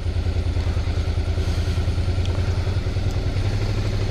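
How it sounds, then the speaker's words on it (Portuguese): A Suzuki V-Strom DL 650 motorcycle idles close by outdoors near an old train station, a steady, even low-pitched engine chug with light mechanical clatter and no talk. "Vou virar a moto aqui."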